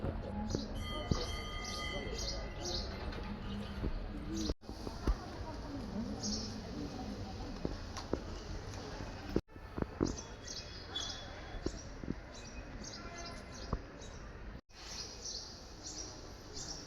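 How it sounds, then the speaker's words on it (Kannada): Sparrows chirping at a temple shrine, faint high twitters coming and going over a steady outdoor background, with a few abrupt breaks in the sound. "ಗುಬ್ಬಚ್ಚಿ ಕೂಗುವ ಸೌಂಡ್ ನೋಡಿದ್ದೆ ಕೇಳಲಿಕ್ಕೆ ಖುಷಿ ಆಗ್ತದಲ್ಲ"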